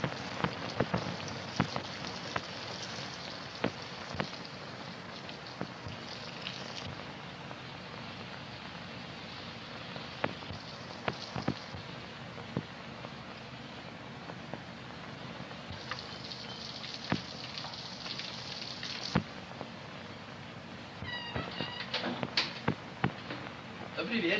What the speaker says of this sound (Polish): Taki deszcz? Znowu pada.